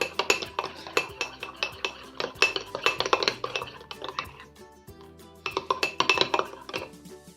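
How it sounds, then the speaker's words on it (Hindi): A spoon stirs coffee into hot milk in a cup, giving rapid, repeated ringing clinks against the sides in quick bursts, close and bright, with a short pause before the clinking resumes. "पहले मैं थोड़ा सा गर्म दूध लेके उसमें मिक्स करूँगी कॉफ़ी"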